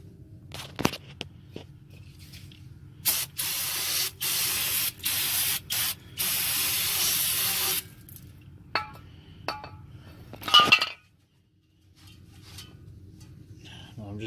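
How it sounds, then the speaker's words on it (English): Brake cleaner hisses out of an aerosol can onto a greasy drum brake backing plate in several loud sprays of a second or so each, separated by short pauses, with light clinks of metal afterward and a low background hum. "I'm just using brake clean to clean this up."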